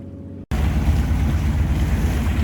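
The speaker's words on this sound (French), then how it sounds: "Il y a une sacrée houle là." Sailboat moving through a heavy swell off the island coast, with a steady roar of wind and water rushing against the hull, loud and continuous after a brief cut.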